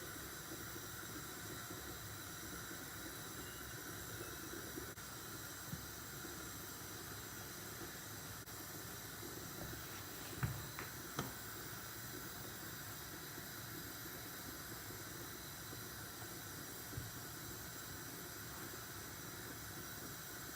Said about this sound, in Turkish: Kaynamaya başladı. Üstüne çıkmaya başladı.